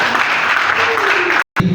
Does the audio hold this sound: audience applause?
yes